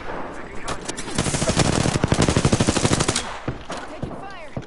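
Rapid machine gun fire in a shooter video game, a dense rattling burst of closely spaced shots, loud and near, easing off into scattered echoes at the end.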